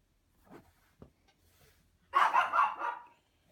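A dog barks in a quick burst of four or five loud yaps after some faint thumps and near-silence.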